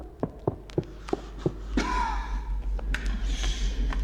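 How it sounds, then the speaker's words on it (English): Quick running footsteps thud in a steady rhythm on a Minecraft music disc, then a sharp gasp and ragged heavy breathing with coughing follow, close and tense. "right off the bat with desperate running, heavy breathing, and coughing."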